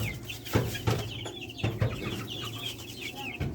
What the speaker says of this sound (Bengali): এই মুরগিগুলা দেখতে এত সুন্দর, মাশাআল্লাহ।